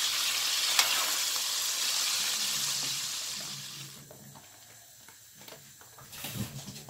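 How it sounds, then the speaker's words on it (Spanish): Chicken searing in a hot pan gives a loud, steady hiss for several seconds before easing, followed by softer stirring sounds. "Vamos a ir sacando nuestro pollo que selle así solo un poquito."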